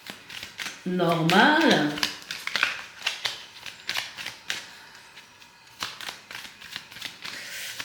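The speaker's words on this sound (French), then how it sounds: "je vais tirer une carte" Oracle cards from the deck 'Le chemin de l'Âme' are shuffled and drawn by hand during a card reading, giving soft, scattered papery flicks and taps beneath a nearby speaking voice.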